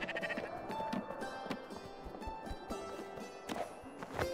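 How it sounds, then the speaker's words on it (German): A sheep bleats in the video game Spiritfarer, short wavering cries over a light bed of game sounds and soft footsteps, moderately close. "Ein Schaf!"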